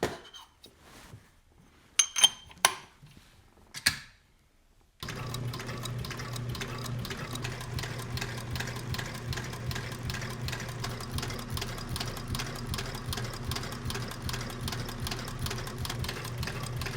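A sewing machine stitches leather chaps. A few sharp clicks and taps come first, then a loud, steady mechanical whir runs without a break for the rest of the clip, close by and alone.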